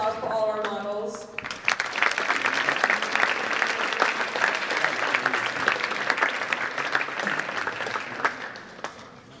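A school assembly audience claps for the models at a Fight for Life cancer fundraiser kick-off, with a voice speaking briefly at the start before sustained, moderately loud applause fills the hall.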